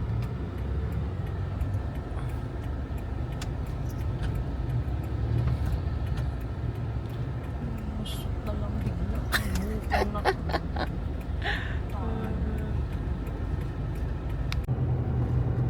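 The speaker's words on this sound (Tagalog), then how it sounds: "we're now here na Aguinaldo Highway" Steady road traffic rumbles along the Aguinaldo Highway, a continuous low roar of passing cars and engines with scattered higher rattles and clicks, and voices briefly audible in the middle.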